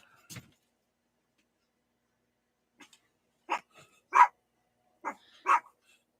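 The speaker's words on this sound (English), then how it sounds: "Sorry about the dogs." Dogs bark indoors, heard a little way off: one short yip, a long pause, then a cluster of several sharp barks in quick succession, fairly faint, with silence between.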